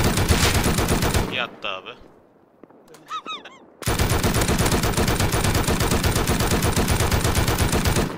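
Rapid bursts of automatic gunfire from a firefight in the survival game Rust, loud and sustained, break off briefly while someone speaks a few words and other short sounds occur, then resume as a continuous heavy volley.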